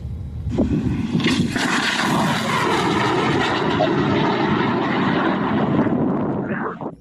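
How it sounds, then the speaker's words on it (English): Ukrainian-made Shark unmanned aerial vehicle in flight, a steady droning engine hum that holds for several seconds before fading slightly at the end, with no voices. "This is an unmanned aerial vehicle of Ukrainian production called Shark or Fakula"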